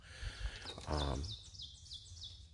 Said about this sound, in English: That's the ovenbird.